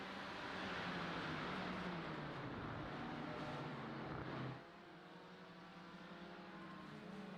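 BMW race cars in a sim racing game at Brands Hatch run side by side, a loud continuous engine drone that shifts pitch as one car changes gear partway through, with no talk.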